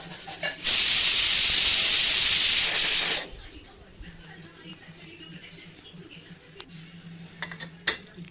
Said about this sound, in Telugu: ఇక్కడైతే 5 విజిల్స్ వచ్చేసిందండి.